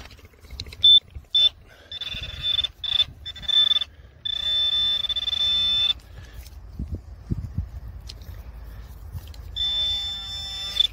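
A metal detector pinpointer beeps in sharp, high, tonal bursts over a buried object in a field, first choppy and intermittent, then longer sustained tones, close and loud with faint rustling and brief handling sounds between.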